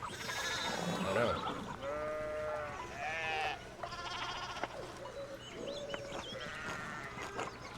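Sheep bleat over and over in a video game farm scene, the wavering cries overlapping and fairly close, with a continuous ambient background and a voice faintly underneath.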